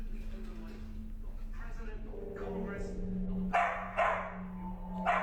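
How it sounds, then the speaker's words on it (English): A dog barks somewhere inside a house, several short muffled woofs and yips coming after a steady low electrical hum, with two louder sharper barks near the end. "Is the dog upstairs?"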